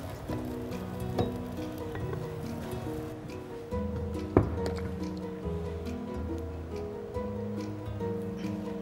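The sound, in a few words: stirring mutton rezala in the pot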